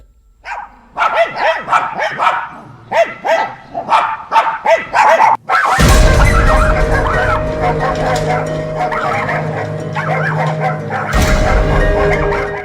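Several stray dogs bark and yip in rapid, loud bursts during an attack on a woman caught on CCTV, then a harsh, noisy roar of mixed sound takes over.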